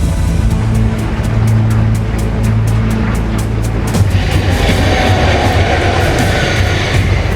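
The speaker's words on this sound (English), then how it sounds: "The 900-metre train rolls out right on time" A 900-metre Australian coal train rolls out, its heavy diesel engine drone and low rumble steady and loud, with a regular clicking of wheels over rail joints at first, then a broader roaring wash as it gathers pace.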